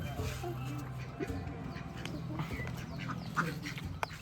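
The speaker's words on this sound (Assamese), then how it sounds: "হাঁহকেইটা উৎপাত লগাই আছে" Ducks quack repeatedly in a busy outdoor scene, with people talking nearby and steady background noise throughout.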